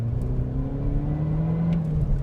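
A Holden Astra VXR engine runs hard under full throttle, a steady loud drone with low harmonic lines rising slightly, heard from inside the car without talk.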